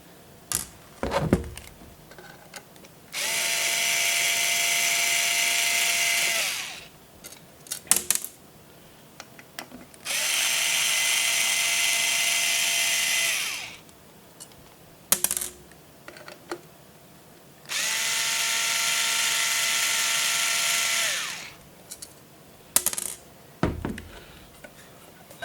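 Long screws are driven out of an Akasa Newton NUC chassis in three sustained whirring bursts, each lasting about four seconds, with small clicks and handling knocks in the quiet gaps between.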